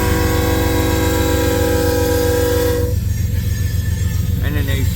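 A GE AC4400CW locomotive hauling an empty westbound coal train at Pacific Junction, rumbling loudly and steadily up close with a long horn blast that cuts off midway, leaving the continuous roll and clatter of the cars.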